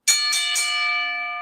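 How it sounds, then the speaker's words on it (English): A single bell is struck three times in quick succession, and its bright metallic tone rings on and slowly fades, loud and close, with no talking. "let's go ahead and ring that bell because we did it"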